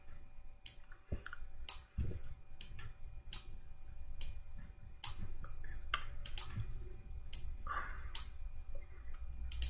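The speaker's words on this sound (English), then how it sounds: "So we click once, click, click, and return" Mouse button clicks on a computer used to place points in Owlbear Rodeo virtual tabletop software, sharp dry ticks coming one at a time in an uneven rhythm over a low room hum, close and fairly faint.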